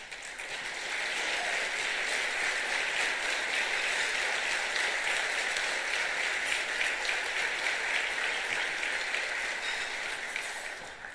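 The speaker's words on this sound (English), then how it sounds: "let's give them a round of applause if we could" Steady, sustained applause from a large audience at a Hoover State of the City address honoring city employees, dense even clapping lasting several seconds before tapering off.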